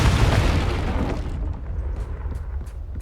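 A Confringo blast spell explodes in Hogwarts Legacy: one heavy, booming burst up front that rolls off into a fading rumble, followed by a few faint crackles and pops as the blast settles.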